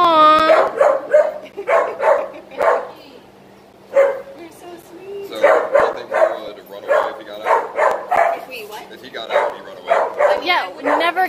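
A four-month-old puppy named Hex gives intermittent yips and small barks, mixed in among people talking nearby indoors.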